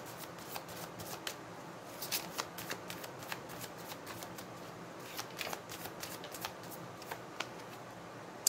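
Tarot cards being shuffled by hand for a reading, a run of quick crisp riffles and soft flicks repeating at close range, with no talk over them.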